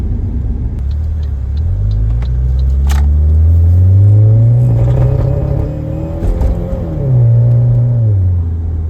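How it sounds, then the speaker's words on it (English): A 1997 Saab 900S Turbo revs up with rising engine drone and turbo whir, climbing and falling in pitch, with sharp exhaust pops crackling over the rumble, loud and close. "Yeah, that was turbo spool. Turbo spool. And the exhaust also popping away."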